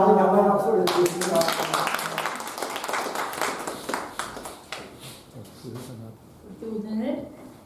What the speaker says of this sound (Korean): 영광의 박수를 드리겠습니다.